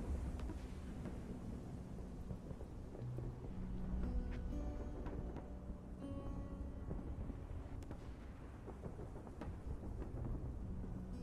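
A thunderstorm with heavy rain used as an audiobook sound effect: steady dense rainfall hisses throughout while deep rolling thunder rumbles underneath, swelling around the middle, with no voices.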